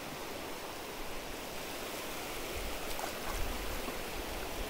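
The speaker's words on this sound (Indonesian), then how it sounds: "Airnya masih mendorong-dorong karena belum surut total" Shallow seawater surging and washing along a shore where the tide has not fully gone out, a steady broadband rush with slightly stronger swells toward the end, with no voices.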